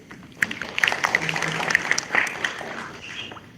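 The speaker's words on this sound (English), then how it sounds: "round of applause for you" A conference audience at an artificial intelligence ethics event claps in a round of applause, a scattered patter of individual claps that builds and then thins out, fairly close and moderately loud.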